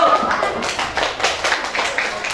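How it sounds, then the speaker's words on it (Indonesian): Grade six pupils in an Islamic religious education class clap for the first group, a brief patter of irregular hand claps from a small room of children, close and moderately loud, with faint voices underneath. "Tepuk tangan untuk kelompok 1."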